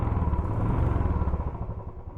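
A 2020 Royal Enfield Classic 350 (BS3) in stock form pulls away in first gear, a close, loud single-cylinder thump with a steady pulsing beat and a slight rise in pitch as it moves off.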